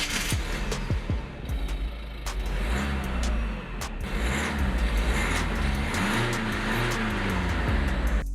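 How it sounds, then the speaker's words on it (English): A fast car's engine revs and accelerates hard, a loud continuous roar with rising and falling pitch sweeps across the whole stretch. "good thing I can drive a really fast car of a good friend of mine"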